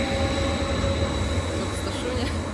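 A train rumbles at a station on a trip toward the airport, a loud, steady roar of rail cars with faint wheel squeal and no talk over it.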